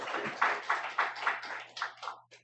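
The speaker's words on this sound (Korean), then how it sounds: "하나님께 영광의 박수 올리겠습니다." A church congregation at a Sunday evening service in Yeongdeungpo claps in a steady rhythmic burst of about a dozen claps, close and bright, slowing and thinning toward the end, with a low hum underneath and no talk.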